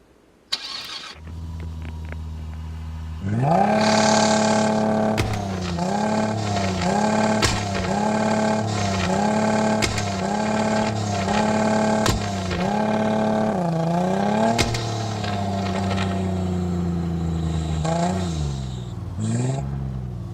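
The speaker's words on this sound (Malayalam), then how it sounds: "എങ്ങനെയുണ്ട് വണ്ടിയുടെ സൗണ്ട്?" A car engine starts and then runs while driving, its pitch repeatedly rising and dropping through gear changes; the engine note is loud and close, with no talking over it.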